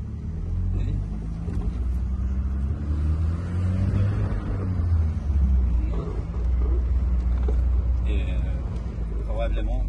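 A Volkswagen Golf cabriolet engine runs while driving, a low steady rumble with road noise filling the cabin and voices talking over it.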